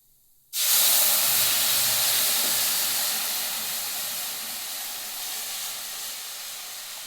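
Buttermilk poured into a hot pan of fried spices for a buttermilk curry, bursting into a sudden loud hiss that holds steady and slowly softens, close and alone.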